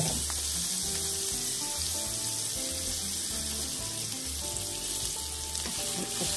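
Carrots stir-frying in plenty of sesame oil for a bento side dish give a continuous loud sizzle with a watery, running texture. It goes on without pause, and no voices are heard.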